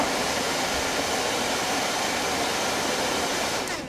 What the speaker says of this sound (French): RTFM, voilà, l'aspirateur a terminé.